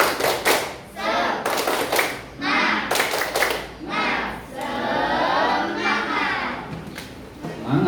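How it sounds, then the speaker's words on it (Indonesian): A school class performs the 'tepuk semangat' spirit clap together, sharp rhythmic bursts of group clapping in patterned beats, interleaved with a voice and the children's chanted responses. "Ya kita tepuk semangat dulu bareng-bareng."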